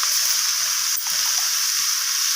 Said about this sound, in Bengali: তো সব কিছুকে একসাথে নাড়িয়ে চাড়িয়ে সবজির সাথে আমি কষিয়ে নিচ্ছি এইভাবে।